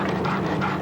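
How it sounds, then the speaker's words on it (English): A sled dog team runs flat out along a dirt road, giving a dense, continuous rush of panting breaths and patter close by, with no voices. "The dogs dash over the dirt road."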